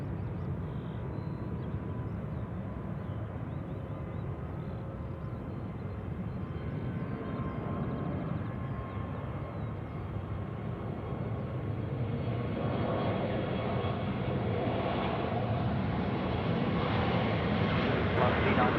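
An Air New Zealand jet powers up for takeoff at Sydney Airport, a broad, steady engine roar heard from a distance that swells gradually toward the end, with voices talking over it.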